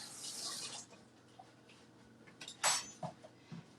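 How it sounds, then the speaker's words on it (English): Water from a kitchen sink tap hisses briefly at the start, then an object is rinsed with splashes and a few clinks against the sink, close and fairly quiet. "I'm just going to rinse this."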